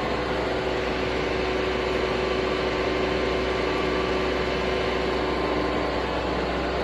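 A Stanko 6A82 Soviet vertical and horizontal milling machine runs steadily at 500 RPM, a loud constant mechanical hum and whir with no change in pitch or level throughout.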